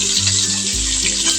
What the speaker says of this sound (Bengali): মাছ ভাজি চলছে